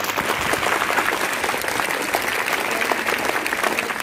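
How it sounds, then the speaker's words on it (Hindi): A crowd of government school children clap loudly and continuously for medal winners at a school ceremony, a dense, even wall of applause. "ये देखिए हमारे बच्चे बहुत खुश है, बहुत जोर से ताली बजा रहे हैं"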